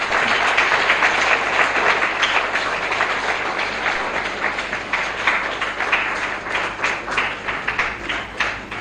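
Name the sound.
audience applause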